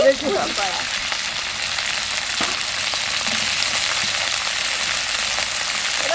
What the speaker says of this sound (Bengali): তেলটা গরম হয়ে গেছে আমি এবার সবজিগুলো ভেজে নেব দিয়ে দিচ্ছি ক্যাপসিকাম কুচি